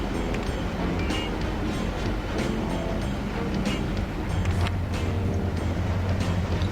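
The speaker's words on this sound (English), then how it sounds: "You have the Kodachrome train." A Kodachrome train runs in the Locomotion railway game, a steady rumbling drone with rattling wheel-on-track texture and a deeper hum joining partway through, continuous and moderately loud with no talking.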